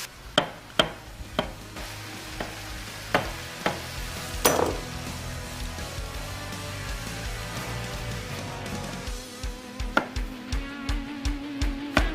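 Vegetables added to grass-fed beef browning in a pan, a continuous close sizzle broken by sharp clatters and scraping taps of a utensil stirring and tossing the mixture, louder bursts toward the end.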